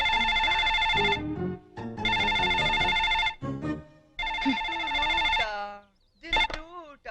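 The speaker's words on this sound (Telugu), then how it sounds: "ఫోన్ తీ." A telephone rings loudly in repeated long bursts, with short pauses and voices between them in a comedy scene.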